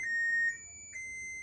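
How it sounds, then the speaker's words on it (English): An oven gives high-pitched electronic beeps, a long tone followed by a second shorter one, clear and close in a quiet room. "That's the sound of my oven. It's telling me it's preheated."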